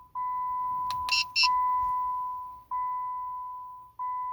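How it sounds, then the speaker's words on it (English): A 2007–2017 Jeep Compass gives a steady series of electronic beeps during key fob programming, with a long tone, a short break, then repeated tones of similar length, clear and close with no voices. "wait for a few seconds until you hear the beeping sound indicating programming is successful"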